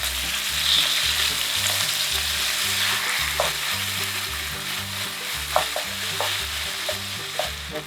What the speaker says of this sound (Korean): 그러면 양념을 여기에 반만 넣어주세요. 반만 넣으시고 볶아주세요.